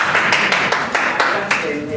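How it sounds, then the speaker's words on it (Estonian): Applause from a lecture audience: a handful of distinct, fairly close claps land in an irregular rhythm over a murmur of voices, with speech rising near the end. "Võite endale ka aplausi teha."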